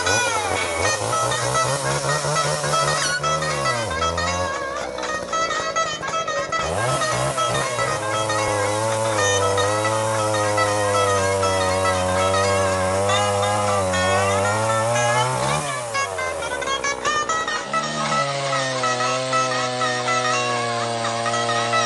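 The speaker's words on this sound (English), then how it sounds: "I just got me running a couple of saws there, but I did a darn good job running them." A couple of chainsaws running at a Sawr-B-Q event, loud buzzing engines held at high revs with pitch dips as the throttle eases and picks up again, close and continuous without speech.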